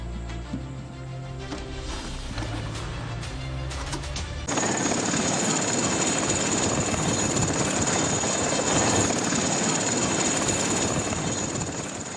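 Inside a helicopter flying from Chitral to Bumburet, a loud, constant engine and rotor roar fills the cabin, and the wash grows even denser partway through, with no voices heard.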